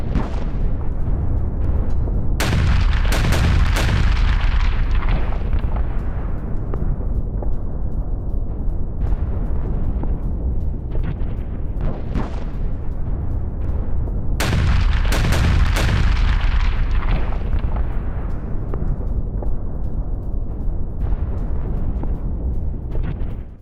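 Heavy FAB-3000 glide bombs dropped by Russian bombers explode over Kharkiv, two big booming blasts about twelve seconds apart, each followed by a long low rumbling roar that never fully dies away.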